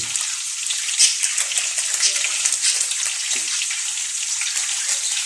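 Ground meat sizzles in a pan while sweet Pinoy-style spaghetti sauce is prepared, a steady loud crackling hiss with brief pops throughout.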